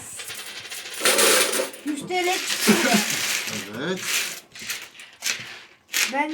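Coins spill and clatter from a broken piggy bank in loud, close jingling bursts with metallic rattles, while a person talks over the dropping change.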